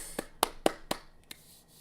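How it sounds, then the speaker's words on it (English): One person claps their hands four times at an even pace, then adds a softer fifth clap after a short pause. "A bit of an applause for myself."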